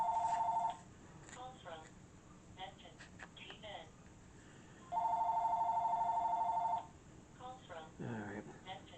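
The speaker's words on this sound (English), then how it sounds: "I still have not silenced that phone of mine." A mobile phone rings in two long, loud electronic tone bursts near the start and middle, while someone speaks intermittently in between.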